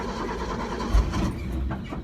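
A 1964 International rat rod truck engine running after a first start in years, a rough, steady low rumble with a brief thump and a slight rise as gas is given.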